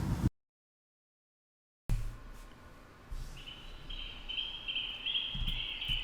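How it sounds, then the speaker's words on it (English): Birds chirp with thin, high calls that repeat over a quiet outdoor background and grow more steady toward the end, after a brief silent gap near the start. "I'm always a sucker for bird sounds."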